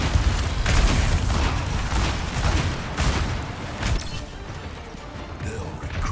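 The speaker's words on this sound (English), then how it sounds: "he threw the bomb and point blank me" A bomb going off at point-blank range in a video game, with heavy booming blasts and crashing, creaking mechanical debris in loud bursts over a rumbling low end.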